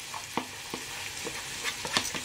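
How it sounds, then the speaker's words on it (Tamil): Vegetables hit a hot pan for chicken and prawn noodles and sizzle steadily, with a few scrapes and knocks of stirring scattered through the close, fairly soft frying hiss. "வெஜிடபிள்ஸ் போடுறோம்"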